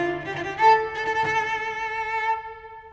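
A solo cello plays a passage from Saint-Saëns' Cello Concerto No. 2 with an added open D grace note, its rich, resonant bowed tones sounding clearly alone and ringing out at the end.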